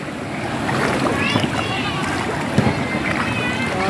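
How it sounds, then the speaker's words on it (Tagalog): Floodwater rushes hard and steadily under a new bridge, a loud continuous roar of churning current with faint splashes and people talking over it. "Grabe ng agos ng tubig."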